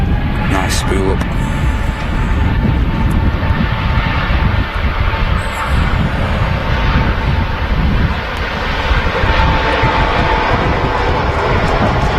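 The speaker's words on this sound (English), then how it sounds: "Great sound there from the A350-900." An Airbus A350-900 jet taking off on a windy day at Manchester Airport, with a loud, steady roar of engines at high thrust filling the whole stretch, plus wind buffeting the microphone.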